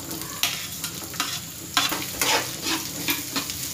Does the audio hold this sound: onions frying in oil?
yes